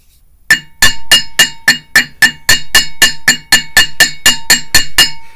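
A hammer taps a part flush during a Subaru EJ25 clutch install: about sixteen loud, sharp metallic strikes in an even, brisk rhythm, close up.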